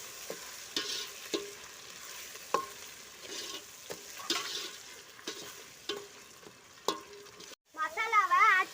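Green chillies are stirred in a pan for biryani: regular scraping taps of a spoon over a soft frying hiss. A brief wavering cry-like tone sounds near the end.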